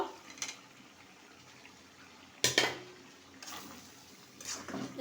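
Papaya is stirred into mutton curry in a pan, heard as several clanks and scrapes of a spoon against the pan, close, with a loud clatter in the middle over a soft background bubble.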